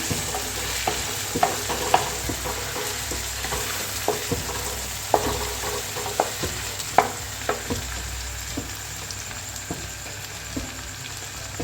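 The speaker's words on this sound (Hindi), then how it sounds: "इनको मैं मिक्स करूँगी।" Roasted cumin, coriander and black pepper are stirred into a lauki (bottle gourd) karahi in a hot pan, with a steady background sizzle and irregular spoon scrapes and taps against the pan.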